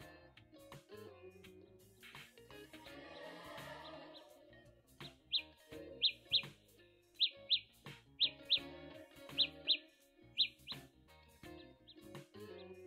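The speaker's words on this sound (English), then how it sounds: "that bird sound is actually coming from the Galaxy Buds" Repeated sharp high bird-like chirps from Samsung Galaxy Buds earbuds in locator mode, sounding in quick pairs at a regular rhythm, fairly clear against a quiet background.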